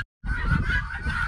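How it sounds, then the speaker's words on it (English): Guinea fowl on a backyard homestead give a loud, harsh, continuous honking call, nearby, after a brief moment of silence. "What are those really annoying things I hear? Guineas?"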